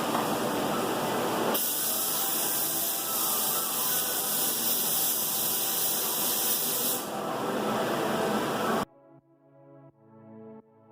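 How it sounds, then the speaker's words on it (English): A spray gun lays a light coat of Bulldog adhesion promoter onto a plastic Mustang bumper, giving a loud steady hiss that runs for several seconds with a brief change in tone partway, then cuts off abruptly. "Now when working with the Bulldog, you just want to give it one light coat."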